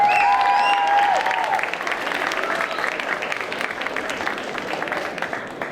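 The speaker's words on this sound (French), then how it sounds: "je voudrais que vous applaudissiez, s'il vous plaît, nos 3 jurés, Alexiana, Soren et The Wicked Cat" Audience at a Japan Party cosplay contest applauding the three-member jury, a sustained crowd clapping that starts loud and gradually thins, with a brief musical tone at the start.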